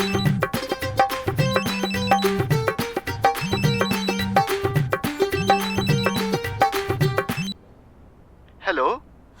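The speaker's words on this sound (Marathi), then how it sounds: "फोन आलाय तुमचा" A phone ringtone plays a repeating, looping electronic melody, loud and close, for about seven seconds, then cuts off; a short spoken reply follows in the quiet afterward.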